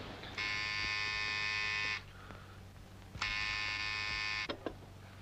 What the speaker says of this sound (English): Just reach over and very firmly press the buzzer.